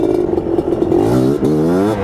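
A Yamaha Blaster ATV engine revs hard and close for a power wheelie, its pitch climbing steadily through the rev with a brief dip near the end before rising again, loud and alone with no talk.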